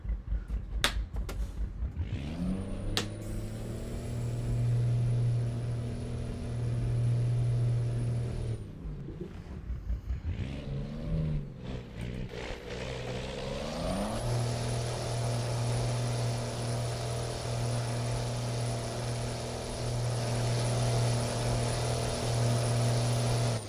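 A Kenworth W900B in American Truck Simulator, fitted with a 20,000 horsepower engine, drones and strains under a quad lowboy load, a steady loud hum that dips briefly before settling back into a laboring tone.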